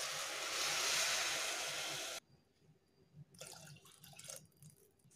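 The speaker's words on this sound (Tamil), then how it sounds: "நான் வந்து இதில் 1/2 டம்ளர் தண்ணி ஊற்றிக்க" Water pours steadily and fairly loudly for about two seconds onto kuthiraivali millet rice for biryani, then stops abruptly, leaving faint clinks and small trickling sounds.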